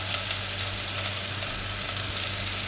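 Curry leaves, onion, spices and asafoetida cooking together in a pan give a loud, dense, continuous sizzle heard close up and alone, with no talking.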